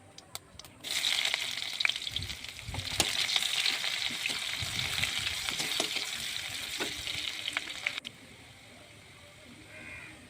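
Onion, cumin and chili hit hot oil to temper boiled dal in a village home kitchen, setting off a loud, steady sizzle with a few stirring clicks that runs for about seven seconds, then drops to a quieter hiss.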